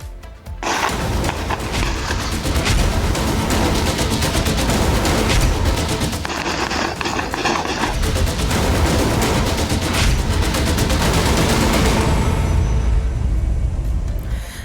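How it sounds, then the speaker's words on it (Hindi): Rapid bursts of gunfire from gang war shootings in Mokama, Bihar, dense and continuous cracking and booming volleys, loud and harsh throughout with no talking. "बिहार गोलियों की आवाज से थरथरा रहा है"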